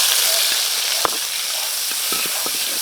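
Mung beans sauté in a hot pan for ginisang mongo with misua, giving a steady, loud sizzle with a few soft stirring knocks scattered through.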